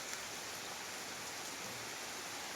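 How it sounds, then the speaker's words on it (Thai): Heavy rain pours at a temple in a steady, dense hiss with no let-up and no voices. "ฝนตกมื้อนี้เบิดมือ ตกแต่เช้า ๆ"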